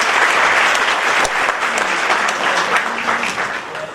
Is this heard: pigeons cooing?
no